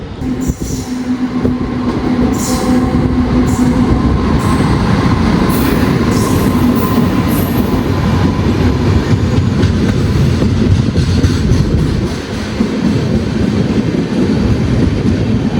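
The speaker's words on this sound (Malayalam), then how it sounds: "തിരുവനന്തപുരം സെക്കന്ദരാബാദ് ശബരി എക്സ്പ്രസ് ആണ് കേട്ടത്." The Thiruvananthapuram–Secunderabad Sabari Express passes close by at Coimbatore North station, a loud, continuous rumble of wheels and carriages with faint metallic squeals, steady throughout.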